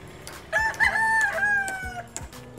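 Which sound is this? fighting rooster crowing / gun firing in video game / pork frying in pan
fighting rooster crowing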